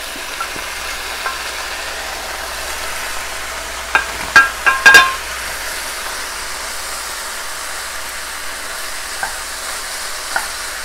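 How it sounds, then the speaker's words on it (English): Vegetables saute in a pan for arancini risotto, a soft, even sizzle with a few brief clinks of stirring midway. "Alright, let those saute for just a couple minutes."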